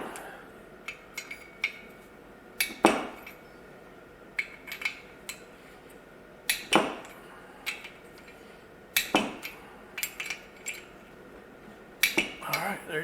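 Engine bolts on an Ariens IKON X52 mower being torqued in a circle, giving sharp metallic clicks and clanks at irregular intervals, some clustered, against a quiet background.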